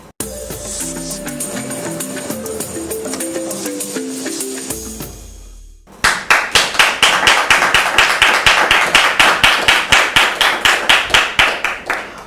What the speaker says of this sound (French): j'aime bien quand les applaudissements sont bien nourris de la sorte